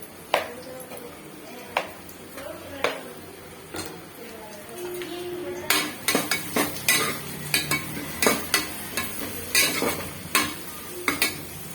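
Vegetables and ginger sautéing in a pan for vegetable biryani produce a soft frying hiss, broken by repeated sharp clinks and scrapes of a spoon against the metal pan, more frequent in the second half.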